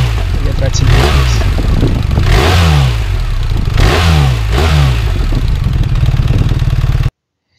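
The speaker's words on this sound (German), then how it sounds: "Hier hört ihr nochmal Motor und der R1300GS." A BMW R1300GS motorcycle engine revs repeatedly, rising and falling in pitch with a throaty mechanical rumble, loud and close, before cutting off abruptly.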